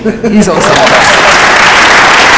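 Loud, dense applause from a conference crowd swells right after a short spoken remark and holds steady to the end.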